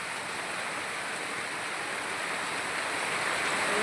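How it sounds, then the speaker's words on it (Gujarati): Heavy rain pours steadily over a village, a dense, continuous broadband hiss that swells slightly louder toward the end, with no voices. "એ જો પાણી વળ્યા ભાઈ કેવો વરસાદ પડે."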